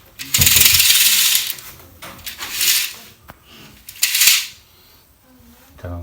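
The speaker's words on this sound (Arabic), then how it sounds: "شد العجل يا احمد" A curtain rail wheel mechanism being tightened during a wave-curtain installation, giving three bursts of close metallic ratcheting and rattling, each a second or so long, separated by brief clicks and pauses.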